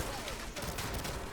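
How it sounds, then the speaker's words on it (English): Automatic shotgun firing in the video game 007 Legends during the Night Lights mission, a dense, continuous burst of gunfire and game noise with no clearly separated shots. "Check out what it can do. Automatic shotgun."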